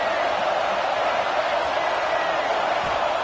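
Football stadium crowd roaring steadily for the defense as the offense is pinned deep in its own end, a dense continuous wall of cheering and noise throughout.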